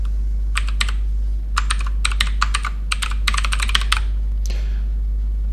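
Close, crisp clatter of computer keyboard keys in quick bursts and short pauses while a TeX macro is written, over a steady low electrical hum, no voices.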